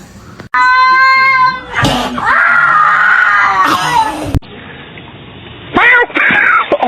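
A cat yowls loudly indoors in long, drawn-out wailing cries, with several distinct caterwauls broken by short pauses and brief human voices.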